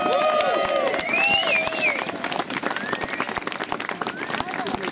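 Outdoor crowd at a Liverpool memorial march clapping and cheering for a brass band, steady applause under someone speaking over a microphone.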